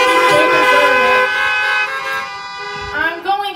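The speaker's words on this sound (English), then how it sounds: "Honk your horns." Car horns honk in a long sustained toot lasting nearly two seconds, followed by a couple of shorter honks, during a Sunday morning church service held with the congregation in their cars.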